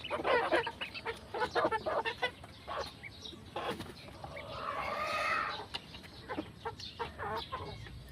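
Chickens and ducks cluck and squawk at feeding time on a game farm, a busy chorus of close, overlapping calls rising and falling, with a longer rising squawk in the middle.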